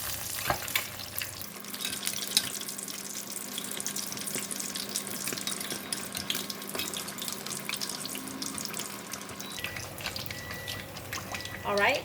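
Fish deep-frying in hot oil makes a continuous close sizzle and bubbling hiss, with a low steady hum running through the middle and faint kitchen clatter near the ends.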